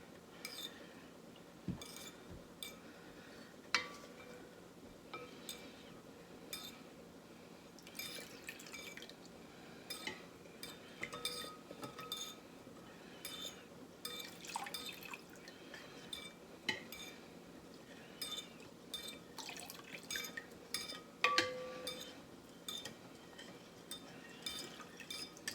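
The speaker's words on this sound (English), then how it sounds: "now that there's more liquid, it's getting easier to stir" Honey is stirred into a violet flower infusion for syrup, with soft liquid sloshing and intermittent drips and utensil taps against the pot, quiet and close, with no talking.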